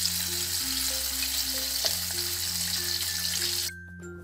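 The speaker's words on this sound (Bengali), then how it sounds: "বাকিগুলো আমি এইভাবেই ভেজে নিব।" Crispy chicken pieces deep frying in hot oil give a steady, dense sizzle that runs close and loud throughout, then drops off sharply near the end; no one speaks.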